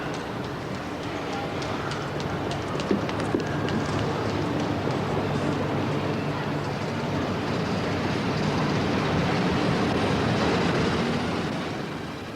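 The Transalpine express train rumbles steadily along the tracks between Innsbruck, Salzburg and Vienna, a continuous loud roar with faint rhythmic clatter from the wheels and no talking.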